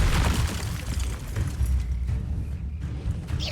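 Confringo, a fire blast spell, detonates in the video game Hogwarts Legacy as a loud booming burst at the start that rolls into a rumbling low roar and fades out over a few seconds.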